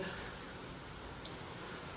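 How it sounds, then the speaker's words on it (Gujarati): Steady rain falls in a constant, even hiss, with no talking. "અમારે વરસાદ ચાલુ થઈ ગયો, અમે દોડીને આવી ગયા"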